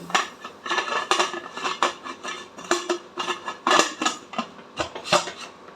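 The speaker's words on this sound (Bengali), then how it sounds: "লিডটা লাগিয়ে দিচ্ছি" Metal clatter of a pressure cooker lid being fitted and locked on a kitchen stovetop, several sharp clinks and scrapes in quick irregular succession, close and moderately loud, no voices.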